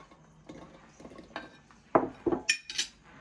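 Garlic is tossed into a pan for a lamb chop dish and pressed with a metal utensil, producing a few sharp clinks and scrapes against the pan amid quiet background.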